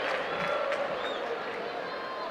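A home crowd at a professional women's soccer match, Portland Thorns against Sky Blue FC, roars steadily in approval of a sliding tackle, a broad distant cheer in a stadium.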